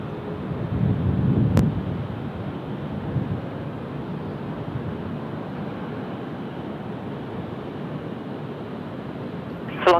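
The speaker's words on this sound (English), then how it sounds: "Cathay next to roll here, Cathay 162, heading back to Hong Kong this morning" Broad steady roar of a Cathay Pacific airliner taking off at Sydney Airport, bound for Hong Kong, filling the whole stretch as a continuous wind-like rumble with a brief bump early on.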